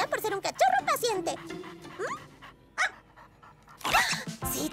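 A cartoon puppy yaps in short bursts amid lively animated dialogue and effects in a Polly Pocket episode, its barks close and mixed under overlapping character voices.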